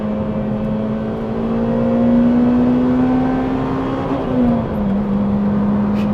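A standard Honda Civic Type R EP3 engine revs up to its rev limit, a strong steady tone climbing slowly, holding near the top, then dropping back slightly, loud and close from inside the car, with no talk.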